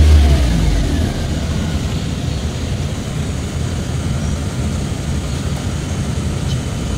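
A Chevrolet Spark engine idles and holds a steady, loud, close rev, a continuous low mechanical drone that stays even throughout, with no talking.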